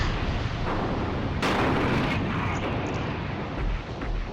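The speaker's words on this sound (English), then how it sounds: "The chiefs can have a bad habit of exploding." Tank fire and exploding tanks in the war game Graviteam Tactics, set in Iran: a continuous dense rumble of distant battle, broken by one loud blast with a long rolling decay.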